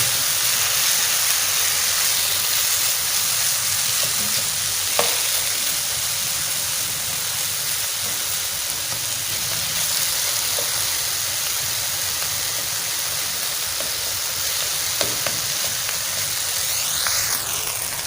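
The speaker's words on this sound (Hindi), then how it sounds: "हमें इसी के अंदर जो है चिकन को फ्राई करना है" Small cubes of chicken fry in a pan for homemade shawarma, giving a loud, steady, broadband sizzle that hisses continuously with only faint pops along the way.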